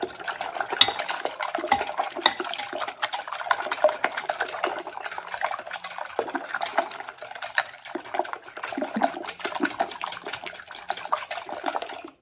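Eggs beaten with a utensil in a bowl for a frittata, producing rapid continuous clicking and sloshing strokes close by with no talk.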